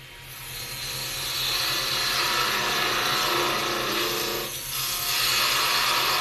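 A narrow parting tool made from an old reciprocating saw blade cuts into wood spinning on a lathe, giving a loud, steady scraping rasp that continues close up with a brief dip near the end.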